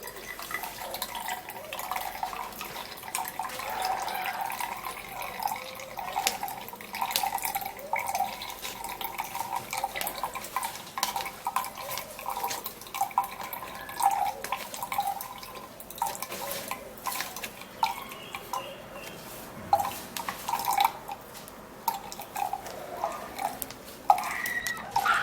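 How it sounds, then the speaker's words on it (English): A blended mixture is poured through a strainer and drips down in irregular, fairly close patters and trickles that continue throughout, with no talk. "So just pour that into the strainer."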